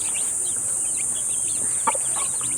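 Chickens and chicks cluck and chirp softly in the background over a steady high-pitched hiss, with scattered calls throughout and no talking.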